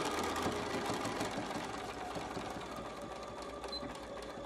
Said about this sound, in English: I'm going to start with a locking stitch, and then I will stitch it down the side